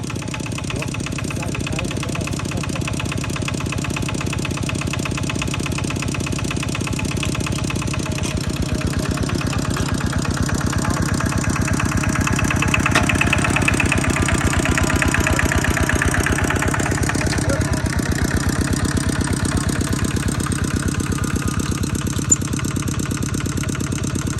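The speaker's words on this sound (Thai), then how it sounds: "มีการเอารถไถขึ้นข้างหน้า" A farm tractor engine idles in a rice field with a steady, rhythmic chugging and knocking throughout, loud and close, its pitch shifting slightly midway.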